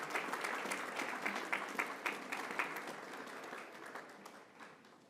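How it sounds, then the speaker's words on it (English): An audience claps for school principals at an El Paso district ceremony, with steady, dense applause that holds from start to finish and thins slightly near the end. "Let's give our amazing principals a huge round of applause."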